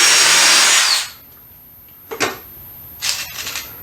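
A power drill clears screw holes in a wooden dovetail clamp sled for a table saw. It gives one loud, close whine for about a second, then short, quieter drilling bursts follow after a pause.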